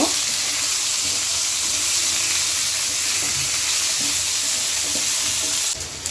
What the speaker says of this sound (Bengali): এখন দিয়ে দেই পেঁয়াজ কুচি। পেঁয়াজটা একটু মজায় নিব।